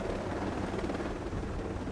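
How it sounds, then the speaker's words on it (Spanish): Drones whirring in Ghost Recon Breakpoint, a dense, steady rotor-like drone filling the full two seconds at close range with no speech over it. "Escuché unos drones."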